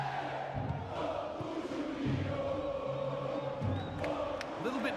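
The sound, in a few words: stadium crowd cheering in EA Sports FC 26 video game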